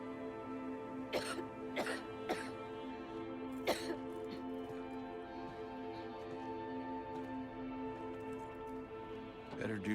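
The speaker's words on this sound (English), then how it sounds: "Better do something about that cough." A character in the Silent Hill 2 horror game coughs in a handful of sharp, fairly close bursts over a steady droning ambient tone, with no speech over them.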